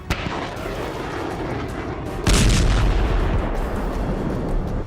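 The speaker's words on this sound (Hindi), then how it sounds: "मिसाइलें भी दागी गई।" Missiles launched from Iranian warships during a live-fire naval drill in the Strait of Hormuz: a sharp blast near the start, then a heavy roaring boom that swells midway and sustains a loud rumbling rush to the end.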